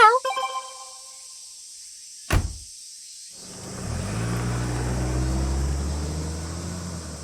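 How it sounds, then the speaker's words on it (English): A large car starts up and pulls away in the video game World End Syndrome, a low engine rumble swelling after a short knock and a few soft musical tones, then holding steady. "Saya gets into a large car which leads in the direction of Mihati Beach."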